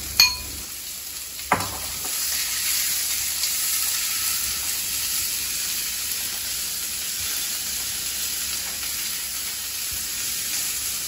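Onions frying in a pan give a steady, even sizzle from start to finish, with a couple of sharp clinks near the beginning and no voices.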